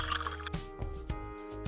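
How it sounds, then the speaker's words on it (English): Water poured into a bowl of flour and salt, a faint close-up of dripping and liquid trickling in a few short bursts over quiet background music. "Pour in some water."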